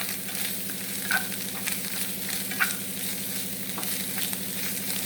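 Native ginger sizzles and fries in a pan for a Kerala tamarind-ginger curry, giving a steady, close crackle with occasional stirring scrapes and no voices.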